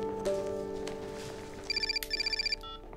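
A telephone rings in bursts of electronic trills, two clear ring cycles, fairly close, over a low steady hum and faint background tones in a bank office, with no talking.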